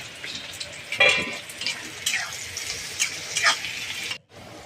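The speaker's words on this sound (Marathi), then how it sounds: "तेलामध्ये टाकली हिरवी मिरची थोडीशी ती तडकल्याच्या नंतर मी लगेचच टाकला त्याच्यामध्ये कांदा" Chopped onion with green chili frying in hot oil, a continuous hissing sizzle with intermittent stirring swishes throughout before cutting off abruptly near the end.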